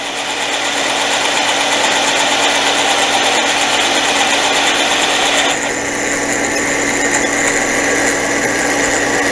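Loud, continuous grinding whir of a Frankford Arsenal case trimmer and prep center cutting brass cartridge cases, steady and close with a slight change in tone partway through, no talking.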